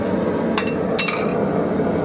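Two sharp, ringing metallic taps from a hammer strike, about half a second apart, heard close up over a constant background rush.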